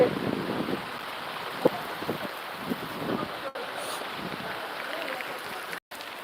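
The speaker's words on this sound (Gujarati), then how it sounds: "તમે જોઈ શકો વરસાદ તો જુઓ કેવો છે" Steady monsoon rain falling outdoors at Surapura Dham temple in Bholad, Gujarat, with gusts of wind buffeting the microphone, a continuous wash of noise with a few brief dropouts.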